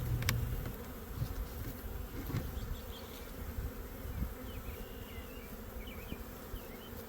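A swarm of honey bees boxed up at dusk gives off a steady, dense buzzing hum that keeps going throughout, with faint outdoor birdsong and crickets in the background.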